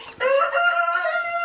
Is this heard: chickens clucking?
yes